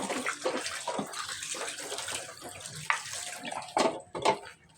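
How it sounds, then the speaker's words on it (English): Running tap water splashing over hands in a sink, with irregular sloshing and a few louder splashes toward the end. "Make sure we wash our hands, soap and water."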